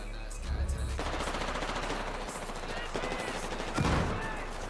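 RPK machine gun fire in the Roblox Battlefield-style shooter Phantom Forces, delivered as rapid automatic bursts with overlapping game gunfire and explosions, loud and close throughout.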